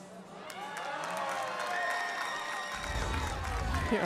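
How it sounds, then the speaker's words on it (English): Crowd at an NCAA college softball game between Baylor and Wisconsin cheers loudly and continuously, a broad roar of many voices that swells further toward the end. "Both sides are cheering."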